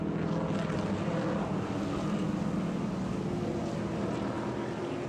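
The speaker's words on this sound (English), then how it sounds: "you can start to hear the engines roar" GT race car engines at Sebring during a restart under green, a steady low droning roar that holds for the whole stretch and sounds distant, with no talk over it.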